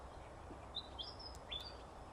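Small birds, wagtails and welcome swallows, circling at a lake give a few thin, high chirps and short twittering calls, faint and scattered over a soft outdoor background.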